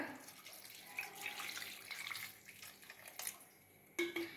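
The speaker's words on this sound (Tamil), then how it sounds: "காய் மூடுற அளவு தண்ணி ஊற்றிக்கோங்க" Water pours into a cooking pot over chopped vegetables for a Kerala rasakalan, a soft splashing and trickling stream that runs steadily with a few brief clinks near the end.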